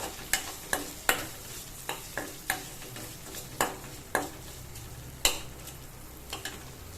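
Goat spleen spiced with chili powder and pepper fries in a pan under a soft, steady sizzle, while a spoon scrapes and taps the pan in about a dozen sharp strokes close by.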